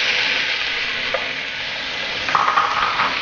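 Ripe tomatoes tipped into frying masala for a pepper crab roast sizzle loudly and steadily, with a couple of spoon scrapes against the pan near the end.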